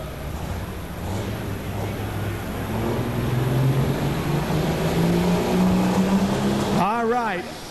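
A John Deere pulling tractor revs hard at a tractor pulling contest at the 1991 National Farm Machinery Show, a loud sustained engine roar rising in pitch, with a crowd and announcer audible underneath before a brief squealing whine near the end.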